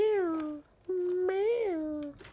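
A cat in the survival horror game The Evil Within 2 gives two drawn-out, wavering meows, the second longer and rising before falling away, close and clear with a brief pause between them.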